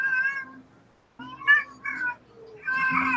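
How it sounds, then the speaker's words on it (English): A cat meows close by in several loud, drawn-out, insistent cries with short pauses between them, heard alone without talk. "Oh, shut up, cat."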